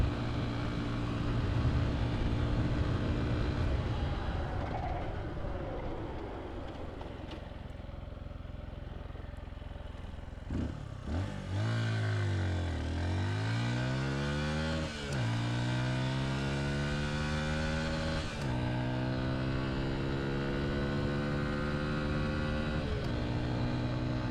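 A 2023 Honda XR150L motorcycle engine winds up through the gears, then drops sharply as the bike brakes hard from highway speed, and climbs again with rising whine as it accelerates back up, steady and close.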